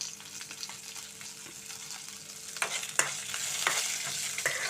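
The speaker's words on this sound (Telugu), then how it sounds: "అలా బాగా వేగాలండి." Tempering sizzles in hot oil for a tangy gongura chutney made with green chillies, a steady close fry with stirring scrapes and small crackling pops growing slightly louder. No one speaks.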